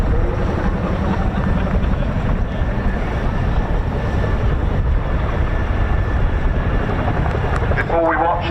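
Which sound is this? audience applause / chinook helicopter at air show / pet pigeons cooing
chinook helicopter at air show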